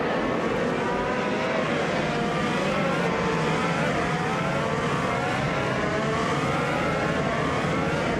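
A 2018 Honda IndyCar engine in a racing video game drones at a high, steady pitch for the whole stretch. The whine stays loud and close, with nobody talking over it.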